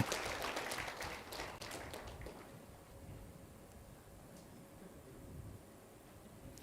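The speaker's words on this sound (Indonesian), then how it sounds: "Beri tepuk tangan untuk mereka semua Bapak Ibu Saudara." A church congregation applauds for about two seconds in a moderate burst of many hands, which then fades into quiet room murmur and low background noise.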